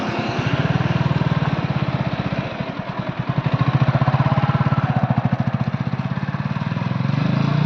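A motorcycle engine runs close by with a steady, rapid, chugging beat. Its loudness swells and dips slightly as it keeps running without a break.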